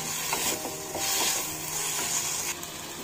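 Capsicum frying in a pan for a cheese toast vegetable mix, a steady close sizzle with faint stirring scrapes and light rhythmic clicks running throughout.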